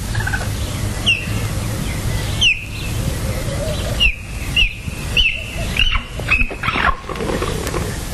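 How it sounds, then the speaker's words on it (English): An excited cheetah gives a series of sharp, chirping bird-like calls, about seven short yelps spaced unevenly across several seconds, fairly close over a low rumbling background. "When excited, they call in this strange, bird-like way."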